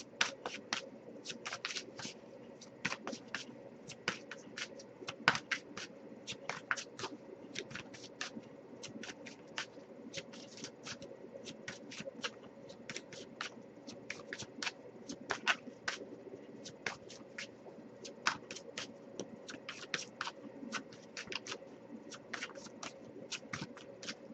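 Tarot cards are shuffled again and again, a soft, quick riffling that repeats in irregular bursts, faint and close, with no talking.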